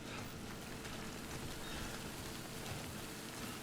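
Steady rain hissing across the landscape of the video game Death Stranding, a constant, even downpour with no talk over it.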